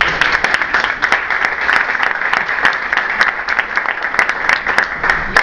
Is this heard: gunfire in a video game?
no